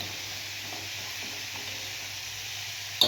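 Mustard seeds tempering in hot oil for a no-onion, no-garlic mango-seed kuzhambu, a steady close sizzle and hiss that holds evenly, with a small clatter right at the end.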